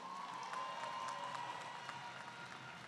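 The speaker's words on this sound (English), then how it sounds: "Give yourselves a round of applause for that." A crowd at a high school graduation claps steadily for a few seconds, a faint, even patter of applause with no voices standing out.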